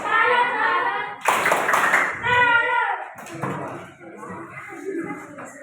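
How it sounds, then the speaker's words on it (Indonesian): A school class performs the 'tepuk salut' clapping routine during a civics lesson, bursts of rhythmic group clapping broken by pauses and mixed with children's voices chanting and talking. "Tepuk salut"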